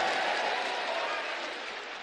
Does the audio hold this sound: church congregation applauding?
yes